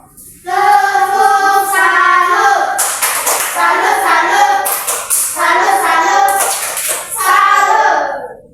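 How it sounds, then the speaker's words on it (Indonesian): A class of schoolchildren in a maths lesson claps a rhythmic salute pattern in unison for a group, loud and close, in several bursts of patterned claps with brief pauses, mixed with children's voices. "Tepuk salut untuk kelompok 2."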